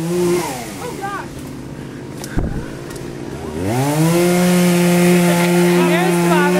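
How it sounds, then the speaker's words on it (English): A chainsaw cuts through a tree during removal work, its engine idling, then revving up to a loud, steady whine partway through, with voices nearby earlier on. "And there's Father sawing."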